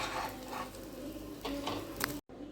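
Coconut puffs frying in oil make a faint, steady sizzle with a few brief stirring scrapes, cutting off abruptly just before the end.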